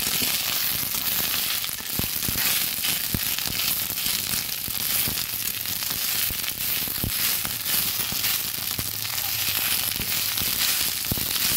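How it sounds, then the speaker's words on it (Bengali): Drumstick leaves fry loudly in a pan, crackling and sizzling without pause, with sharp scrapes and knocks as they are stirred and turned. "ভালোভাবে নেড়ে তাদের মতো রান্না করে নিচ্ছি।"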